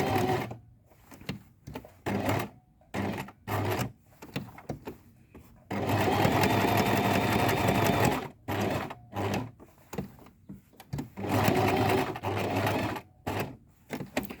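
Sewing machine stitching fabric around a curve, running in short stop-start bursts that swell into one longer steady run midway, with close, mechanical rattling needle noise and brief pauses between stretches.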